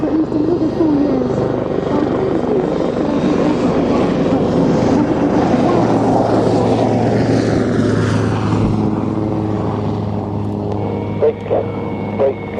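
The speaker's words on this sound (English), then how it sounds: "the Lynx remains a very capable and agile helicopter" A Westland Lynx helicopter flies past with a steady loud rotor and engine drone, its pitch shifting as it moves away, with faint voices underneath.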